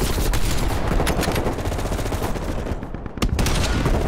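Rapid gunfire from the video game Call of Duty Black Ops Cold War crackles in dense, loud bursts almost continuously, with a short lull before a final sharp shot.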